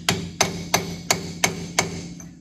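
Six sharp, evenly spaced metallic hammer blows strike a chrome socket set over a brake dust cup while converting a 1969 Chevrolet Camaro from drum to disc brakes, each hit ringing briefly, close and loud, with no talk.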